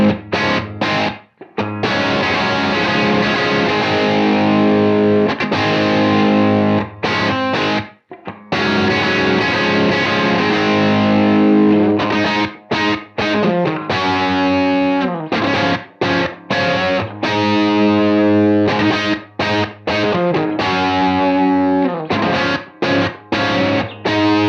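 Distorted electric guitar through a Universal Audio Lion 68 Marshall Plexi amp emulation, playing loud, crunchy chord riffs with short gaps between phrases, alone with no talking.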